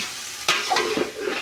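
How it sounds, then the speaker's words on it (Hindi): Spices for a village-style chicken biryani sizzle in hot oil as a tadka, a sudden loud hiss of frying that bursts in midway and keeps crackling close up, alone without talk. "तड़का लगता है"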